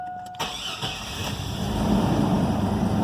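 A 2002 GMC Sonoma V6 with a newly replaced camshaft position sensor cranks briefly and catches, its engine swelling into a steady, close, loud idle rumble.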